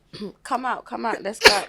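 A single sharp sneeze bursts out near the end, right after a stretch of conversational talk between people.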